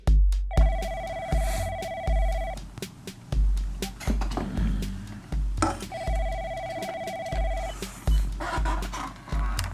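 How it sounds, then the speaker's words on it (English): A telephone rings in two bursts of repeated electronic trills over a busy background of clatter and low rumble. "I get a phone call from Mike Hill"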